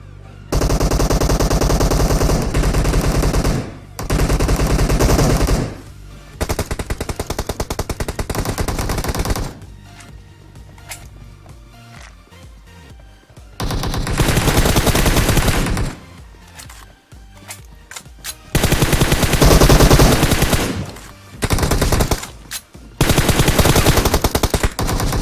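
Automatic and single gunfire from the battle royale game PUBG during a squad fight, loud bursts of rapid shots alternating with brief quiet gaps, no talking.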